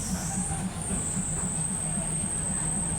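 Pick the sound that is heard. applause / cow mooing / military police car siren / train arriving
train arriving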